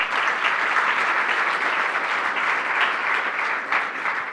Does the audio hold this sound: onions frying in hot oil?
no